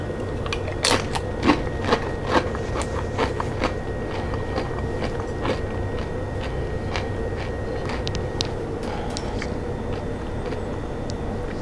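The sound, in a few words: crunchy bite of fresh homemade tomato salsa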